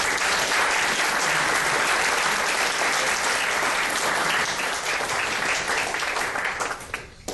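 Sustained audience applause fills a keynote hall at a Baltic symposium, dense and steady for several seconds before thinning out at the end.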